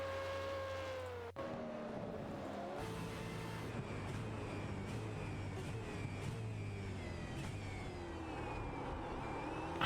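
Racing car engine revving and accelerating through the gears on the Monza circuit in a GT racing video game, a loud continuous whine rising in pitch with shifts, other cars droning nearby.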